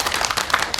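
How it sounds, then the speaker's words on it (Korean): An audience at an education lecture breaks into a short, scattered round of applause, a handful of quick claps that are over in under a second. "박수 한번 주셔야 돼요"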